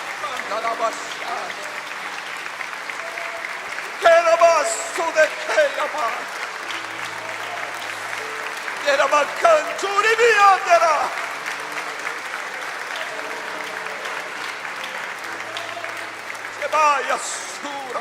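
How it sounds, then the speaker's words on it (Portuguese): Sustained applause from a church congregation fills the whole stretch, steady clapping with a few louder swells, and some voices and singing mixed in underneath. "Você pode aplaudir a Jesus."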